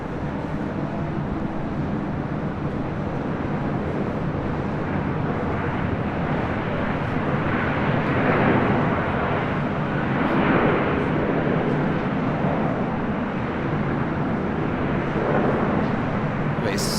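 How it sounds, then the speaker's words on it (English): A Spirit Airlines A321 airliner arriving on runway 25 right at LAX, a broad, steady roar of jet noise that swells and fades slightly at a distance. "Spirit A321 arriving on 25 right on the south side."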